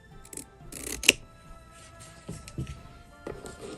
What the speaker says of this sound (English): Go ahead and cut this